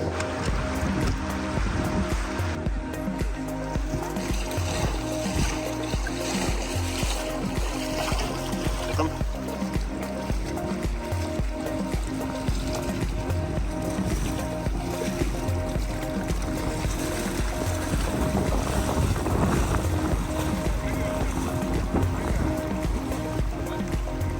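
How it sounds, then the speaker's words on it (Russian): A motorboat engine drones steadily as the hull churns through deep water, unable to get up on plane, with splashing and rushing flow throughout. "Здесь наглядно видно, как на глубине лодка не может выйти на глиссер,"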